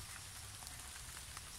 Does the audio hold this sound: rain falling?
yes